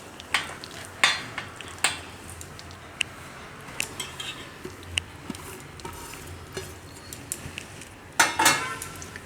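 Spices and chopped vegetables tipped into a bowl of soaked, softened puffed rice, with scattered clinks of a spoon against the bowl and soft scraping, quiet and close, ending in a brief louder clatter.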